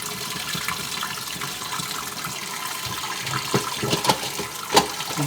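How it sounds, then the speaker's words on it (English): Steady rushing water refills a Geberit toilet cistern after a small-flush repair, with a few faint clicks and knocks rising over the constant hiss. "We can turn our water back on."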